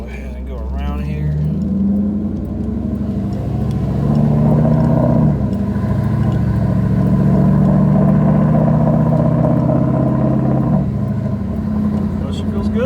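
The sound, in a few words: 1996-1998 Ford Mustang driving with new ignition coils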